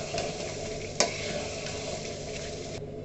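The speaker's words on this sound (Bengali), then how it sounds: "এবার আমি ভেজে রাখা মাথাগুলো দিয়ে দেব।" Fried fish heads stirred in a pan with turmeric, a steady quiet sizzle with one sharp clack of a utensil and light scraping, close and alone with no voices.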